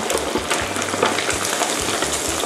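Sun-dried pork pieces, already baked, deep-frying in oil with sesame, giving a steady close crackle and bubbling sizzle with a low rhythmic hum pulsing underneath throughout.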